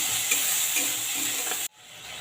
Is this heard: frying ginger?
yes